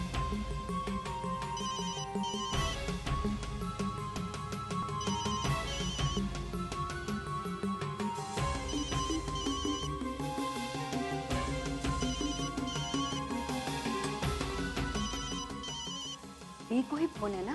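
Telephone ringing indoors amid a dense music score and dialogue, the ring steady through most of the stretch while voices talk over it.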